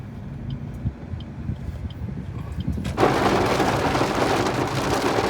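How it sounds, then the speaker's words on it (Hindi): Heavy rain sets in abruptly partway through, turning a quiet outdoor hum into a loud, dense, continuous downpour hiss that holds to the end. "बारिश काफ़ी तेज हो रही है"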